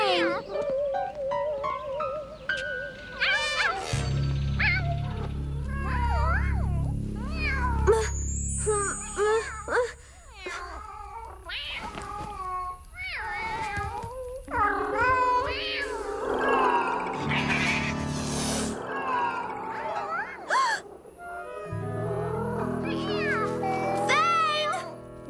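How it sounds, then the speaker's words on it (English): Cartoon cats meowing and yowling in a fight, drawn-out caterwauls mixed with dramatic background music and character voices talking over the commotion. "Not another cat fight."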